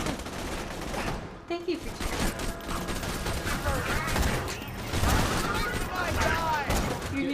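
Dense video-game gunfire from Borderlands 2 during a fight against robots, rapid overlapping shots and booms in a continuous barrage, with voices talking over it.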